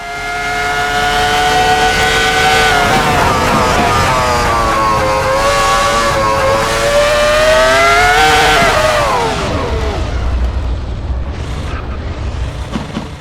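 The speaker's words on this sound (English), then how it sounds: "There's something quite special about hearing the growl of a V10 engine coming from something that looks so futuristic" Loud, continuous V10 engine growl from a futuristic racing car in a sim racing game, rising in pitch through upshifts for about eight seconds, then easing off and fading as the car pulls away.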